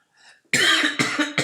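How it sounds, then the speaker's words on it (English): Two or three harsh, loud coughs in quick succession from a man with a sore chest, following a soft breathy sound, close to the microphone. "Still hurts to cough."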